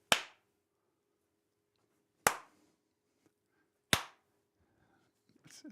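Three separate sharp hand claps ring out alone, spaced roughly two seconds apart during a livestream, each crisp and quickly fading, with faint soft noises trailing at the end.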